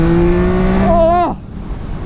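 A 2024 Yamaha MT-09 motorcycle engine sounds loud and close, holding a steady rev before climbing sharply and cutting off abruptly, leaving quieter background noise.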